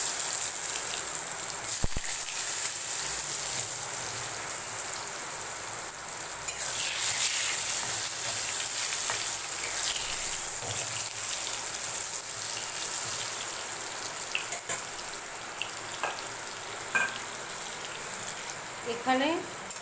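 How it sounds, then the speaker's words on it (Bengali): Potatoes and papaya coated in salt and turmeric fry in hot oil in a kadai, giving a steady, crackling sizzle that continues throughout with a few sharper pops. "তেলে ভেজে নেব।"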